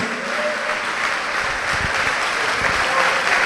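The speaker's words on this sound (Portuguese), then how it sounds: "Vamos aplaudir ao Senhor por isso." A church congregation applauds during a sermon, a loud, sustained wash of many hands clapping evenly throughout, with no voices over it.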